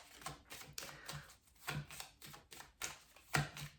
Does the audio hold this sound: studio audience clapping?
no